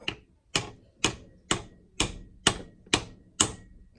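Eight sharp metallic hammer strikes seating a part in a 2011 Range Rover 5.0L V8 engine during head gasket replacement, at a steady, even pace, each ringing briefly, close and clear with no voices.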